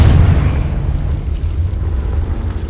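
A Confringo fire spell bursts in Hogwarts Legacy: one heavy, deep boom at the start, then a low rumbling decay that fades over a couple of seconds.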